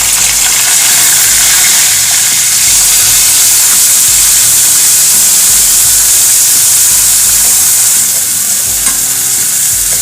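Green chili and onion paste sizzles loudly in a hot pan, a steady bright frying hiss lasting throughout with faint stirring scrapes and no talking.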